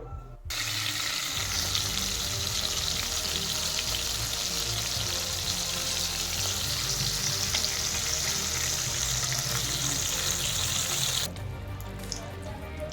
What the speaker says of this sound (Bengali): পরের মাছগুলো আমি একইভাবে ভেজে নেব